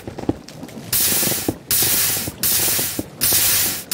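A Minecraft Create mod machine starts up in a video game, giving bursts of loud, broad hissing that cut off abruptly between them after scattered clicks and taps.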